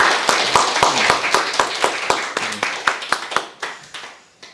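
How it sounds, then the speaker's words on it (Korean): Churchgoers at a Sunday worship service clap in unison to welcome a newcomer, a loud, even train of sharp claps about four per second that fades out near the end. "우리 박수로 한번 환영하겠습니다."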